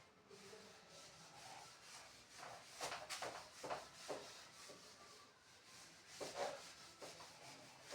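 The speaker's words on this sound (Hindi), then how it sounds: "मैं क्वेश्चन को रब कर देता हूं" Rubbing strokes of a duster wiping a written math question off a classroom board, soft scrubbing swishes in irregular bursts, close and moderately quiet with no talk.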